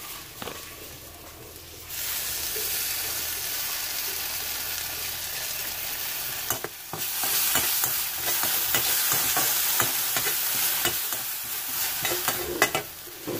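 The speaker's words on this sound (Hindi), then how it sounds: "अब हम इसमें ये गार्लिक चिकन सॉस डालेंगे थोड़ी सी।" Garlic chicken sauce hits a hot pan and sizzles: a quieter hiss first, then a louder, steady sizzle after about two seconds, with stirring clatter and sharp crackles, no talking.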